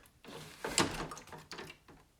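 A plastic water tank slides into a DeLonghi Magnifica espresso machine in a kitchen. A short scraping push comes first, then a firm clunk as it seats, and a softer knock follows. Close by and fairly quiet, with no talking.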